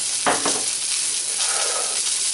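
Cremini mushrooms hit a hot pan with a steady broadband sizzle, a couple of brief louder crackles near the start, then continuous frying hiss close by.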